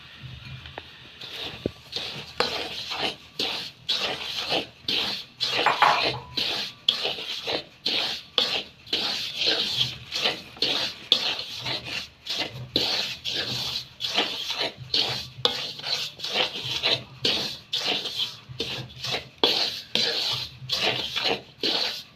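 Semolina being roasted in ghee in a pan, heard as a long run of rhythmic, gritty spatula scrapes and rubs, repeated steadily at close range.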